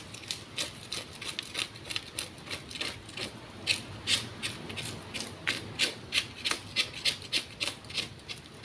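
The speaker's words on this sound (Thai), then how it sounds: "ถ้าเราไม่ใช้ช้อนขูดเก็บของเขาจะออกยากมากเลย" Steady rhythmic scraping of a spoon against a small paddy-field fish, likely a climbing perch, with quick repeated rasping strokes about twice a second, close up and fairly quiet, no talking.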